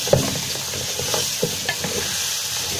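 Green pepper, onion and garlic sautéing lightly with bay leaves and cardamom for a trotters tagine, a gentle continuous sizzle broken by a few sharp clicks of a utensil against the pot.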